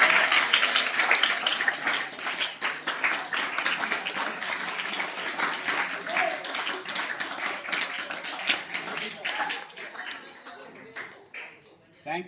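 An audience at an event distributing study materials to hostel students bursts into sustained clapping, dense and steady for several seconds before thinning out and fading near the end.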